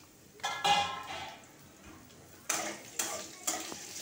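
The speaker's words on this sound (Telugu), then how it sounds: "ఇందులో గుమ్మడికాయ సన్నగా తరిగాను ముక్కలు, గుమ్మడి ముక్కలు, అవి వేచేస్తాను." Thinly sliced pumpkin pieces stirred in a hot tempering of oil, a steady sizzle with sharp metal spoon scrapes and taps against the pan, close and repeated at a quick rhythm.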